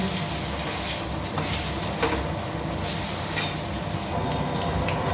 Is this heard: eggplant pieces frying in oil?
yes